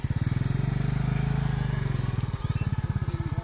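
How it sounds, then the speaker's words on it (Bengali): A motorcycle engine drones steadily at close range as the bike crosses a bamboo bridge. The pulsing hum stays loud throughout, with a slight shift in tone partway through the crossing. "দেখেন এই ব্রিজটির উপর দিয়ে কীভাবে মোটরসাইকেল পারাপার করা হয়"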